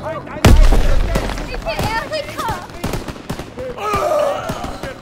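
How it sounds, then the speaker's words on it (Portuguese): Gunfire crackles through a Call of Duty WW2 firefight, opening with a loud blast and followed by scattered sharp shots, mixed with voices and other battle noise. "Tiroteio aqui, muito arriscado!"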